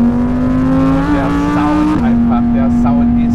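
An Audi R8 V10 performance with 620 PS driving a bumpy road, its engine holding a steady, full-bodied drone with a brief shift in pitch midway, while a person speaks over it.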